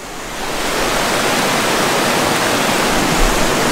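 River water rushing past a rainy hammock campsite, a dense, loud, unbroken wash of flowing water with no talk.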